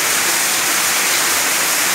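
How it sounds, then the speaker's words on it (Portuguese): A waterfall inside a cave roars as a dense, constant rush of falling water, loud and close, with no voices over it. "Vamos ouvir mais um pouco o barulho da cachoeira."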